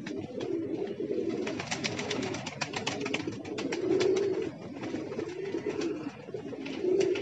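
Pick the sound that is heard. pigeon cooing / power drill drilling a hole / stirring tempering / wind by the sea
pigeon cooing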